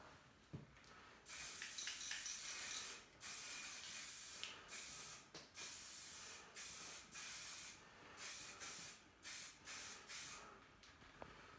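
A spray paint can hisses onto a street-art stencil in repeated short bursts, quiet and close, with brief pauses between sprays.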